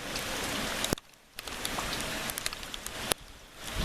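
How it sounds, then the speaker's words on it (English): A heavy rainstorm during North Carolina flooding pours as a dense, steady hiss of rain on surfaces, close and constant, with a few sharp knocks and a brief lull near the start. "Look at all that rain and flood and"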